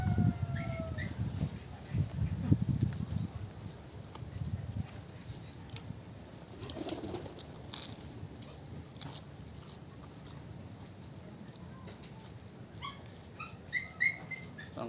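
Birds chirp with scattered faint tweets, mostly toward the end, mixed with close crunchy biting and chewing from someone eating bean sprout spring rolls.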